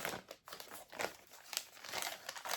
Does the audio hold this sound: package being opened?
yes